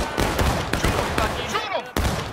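Musket fire crackles in a War of Rights multiplayer battle, several sharp shots cracking out in quick irregular succession at close and middle distance, while players shout over the volleys.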